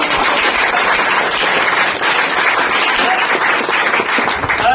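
An audience bursts into loud, dense applause, many hands clapping together in a sustained, close burst of a few seconds at a student results gathering.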